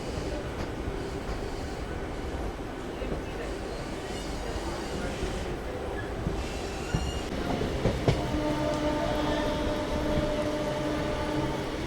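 India's first hydrogen train, the Namo Green Rail, runs on rails between Sonipat and Jind, with a steady close rumble and rattle of wagons, clickety-clack rhythm and faint wheel squeal building through.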